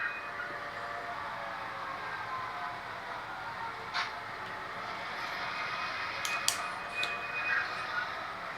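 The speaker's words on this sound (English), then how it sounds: "the Portland bound train can be on its way" An HO scale model train runs on a layout, a low, steady rolling rumble with faint clicks and a few brief metallic squeaks, quiet and continuous for the whole stretch.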